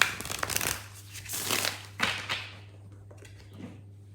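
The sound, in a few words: shuffling a Lunar Soul Tarot card deck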